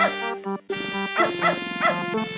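Cartoonish dog barking and yipping from the video game Beneath a Steel Sky, a few short harmonic barks in quick succession over a steady tonal music bed.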